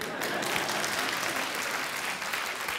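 A comedy-show audience claps continuously throughout, a thick, even wash of applause that holds steady from start to finish.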